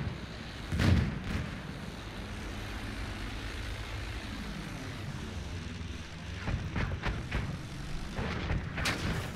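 Anti-aircraft gun fire in Battlefield 1, heavy booming bursts with a loud hit near the start and a cluster of sharp reports toward the end, over a droning aircraft engine and rumble.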